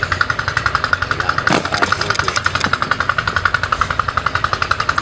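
An engine on a harvest machine runs steadily nearby with a rapid, regular knocking pulse and a sharp clatter partway through.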